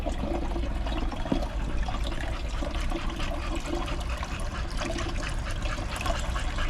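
Water nutrient solution for growing lettuce being stirred by hand, giving a steady swirling, trickling wash of liquid that stays even and close throughout, with no talking.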